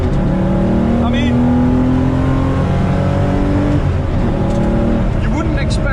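A 1986 Porsche 911 wide-body accelerates hard from inside the cabin, engine tone climbing steadily then dropping briefly as it shifts from second to third and pulls again, with background talk over the engine.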